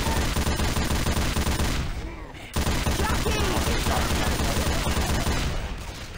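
Heavy gunfire in the video game Left 4 Dead 2 on a custom survival map, loud continuous bursts with a brief pause before the shooting resumes and a voice faintly underneath.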